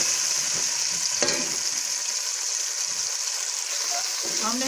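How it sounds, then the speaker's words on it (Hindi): Ground chonge (Caralluma fimbriata) frying over low heat in a pan, giving a dense, continuous hiss and crackle with a few spoon scrapes, close and steady throughout. "इनको हम भून लेंगे हल्की आंच पे।"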